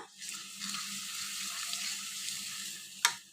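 Potatoes fry with a small amount of ginger garlic paste in a pan, giving a steady, moderate sizzle and hiss throughout, with a brief louder scrape or clatter near the end.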